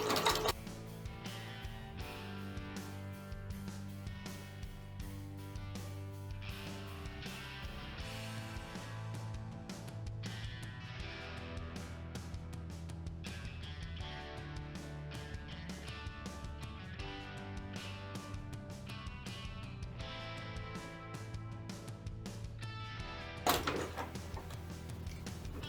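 A sewing machine runs a stretch stitch on leggings fabric, its needle mechanism chattering in a fast, steady mechanical rhythm close by, with a brief sharp clack near the end.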